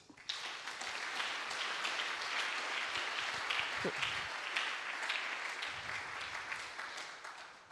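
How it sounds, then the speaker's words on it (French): A church congregation applauds God during a sermon, sustained clapping from many hands that fills the room evenly, with one brief voice rising above it. "Acclame Dieu pour ça."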